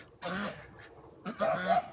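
Geese and ducks honking and quacking as they are herded into their shed at dusk, two short bursts of nasal calls close by, with someone talking over them.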